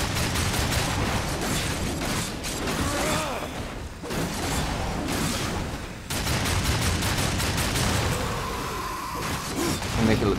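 Rapid pistol gunfire rattles in bursts through a combat scene in the video game Darksiders 2, mixed with whooshes, clanks and booms in a dense, loud soundtrack while a voice talks over it.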